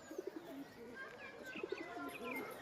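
Domestic sarak baji pigeons coo softly in two short rolling bursts, with faint chirps and quiet background sound between them, heard at a low level nearby.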